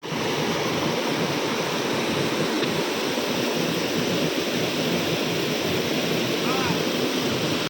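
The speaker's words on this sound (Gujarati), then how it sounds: "આ વોટરફોલ છે" Sembalpani waterfall near Ambaji pours in a constant, dense roar of falling water, loud and close, unbroken for the whole stretch.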